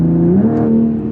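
Engine of a 500 hp Toyota Supra pulling hard under acceleration, a loud close drone whose pitch drops briefly as the gearbox shifts up, then holds steady and builds again, with no talk.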